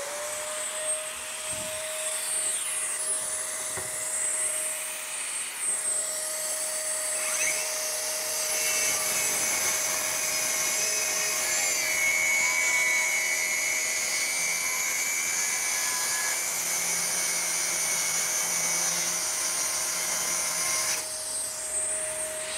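A DongCheng DCMY125 mini circular saw with a 125 mm blade rip-cuts through wood while a vacuum cleaner runs for dust collection, making a steady, loud whine with a sustained tone that holds without pause throughout.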